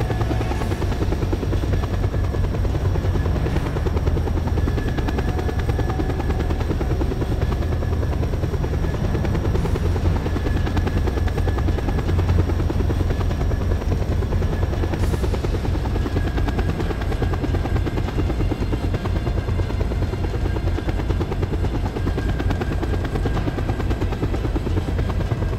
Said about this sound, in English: It's a helicopter following me.